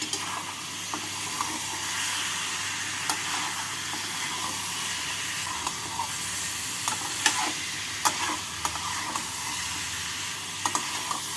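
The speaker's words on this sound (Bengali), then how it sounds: "পনির আর পটলগুলোকে দিয়ে মশলার সাথে নাড়াচাড়া করে নেব" Fried pointed gourd and paneer being stirred with spices in a pan, giving a steady close sizzle with scraping stir strokes and occasional sharp clicks of the utensil throughout.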